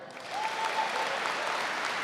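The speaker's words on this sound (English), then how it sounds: "if these individuals would please stand while we offer you another round of applause" A large audience at a high school graduation ceremony applauds steadily and fairly loudly, a dense, even wash of many hands clapping that holds for the full stretch after a quieter start.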